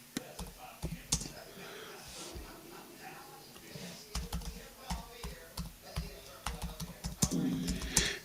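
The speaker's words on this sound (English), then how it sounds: "I've been typing a lot today" Computer keyboard typing in short irregular bursts of clicks, close and fairly quiet, with a voice murmuring intermittently underneath.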